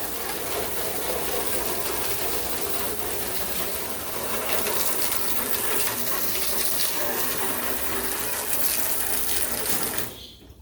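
Tap water runs steadily, rinsing soap out of a rabbit or guinea pig cage, a broad continuous splashing rush that holds for about ten seconds before cutting off abruptly.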